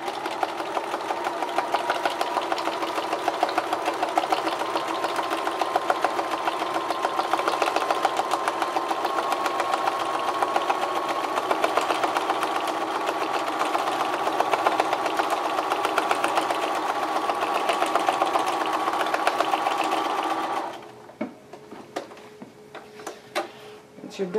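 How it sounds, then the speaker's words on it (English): A sewing machine runs steadily for about twenty seconds, free-motion stitching through fabric and a paper tag, with a fast, even mechanical chatter that stops abruptly near the end, leaving faint handling noises. "when I stitch, I'm going to stitch outside the margins of this fabric"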